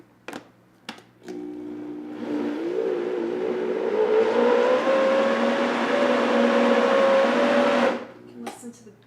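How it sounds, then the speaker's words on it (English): A kitchen blender whirs steadily for about seven seconds while blending a fruit drink with milk, rising slightly in pitch as it spins, with brief clicks before it starts and after it stops. "can listen to the beautiful noises of your blender"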